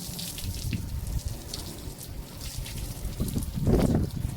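Water runs from a tap in a home kitchen, a steady rushing splash that swells louder near the end, with no talking.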